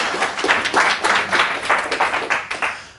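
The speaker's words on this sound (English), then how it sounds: "so let's give him a round of applause" Applause from a seated audience welcoming a speaker to the stage at a property networking event, steady clapping from a modest crowd with no one talking.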